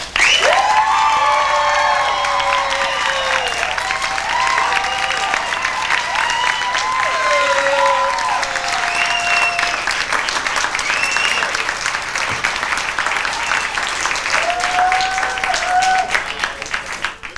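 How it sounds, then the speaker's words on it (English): At a pageant at the Andy Warhol Museum, a crowd applauds loudly and steadily while whoops and cheers rise over the clapping, staying strong for the whole stretch. "I want you all to give a big round of applause for Miss Centennial herself."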